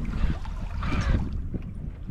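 A small sailboat running downwind wing on wing across Falmouth Bay, with water washing along the hull and wind buffeting the microphone, a close, steady rushing swell over the short stretch.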